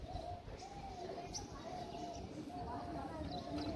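Pigeons coo softly in wet, rainy weather in a lane, the low calls repeating at a moderate distance above a muffled background of rain and street noise.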